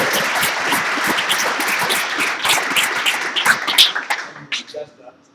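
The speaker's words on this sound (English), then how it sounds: "I would also like to ask for an applause for Abu Dhabi." Crowd applause fills a presentation hall at an engineering competition event, dense steady clapping that thins and tapers off toward the end, with a few louder scattered claps near the close.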